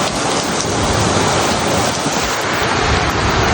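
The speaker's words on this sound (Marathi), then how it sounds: "जोरदार पाऊस चालू आहे." Heavy pre-monsoon rain pours down in a dense, loud, unbroken roar of drops drumming on surfaces all around, with no voices.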